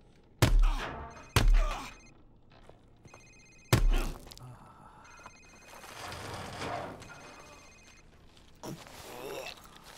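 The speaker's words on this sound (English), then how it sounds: "It's his cell phone." A cell phone rings in a Call of Duty: Modern Warfare Remastered cutscene, a tinny repeating ring heard among heavy impacts and speech in a tense interrogation scene.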